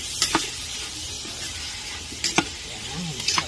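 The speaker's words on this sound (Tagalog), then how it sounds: "Igisa ko po itong isaw." Pork intestines sauté with garlic in a pan, a steady close sizzle under repeated scraping stirs of a utensil against the pan.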